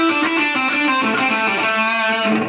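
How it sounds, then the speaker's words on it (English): Distorted electric guitar plays a fluid lead phrase built on hammer-ons and pull-offs, notes sliding smoothly into one another with few sharp attacks, close and loud, alone with no talking. "when you add in some hammer-ons and pull-offs, we can get some sounds that sound like this"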